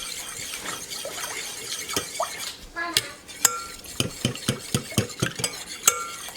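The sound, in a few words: stirring sourdough starter until dissolved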